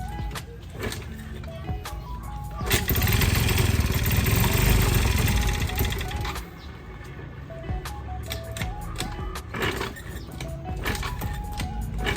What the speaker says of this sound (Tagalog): napaandar natin yung MIUI 125 na nawala yung susi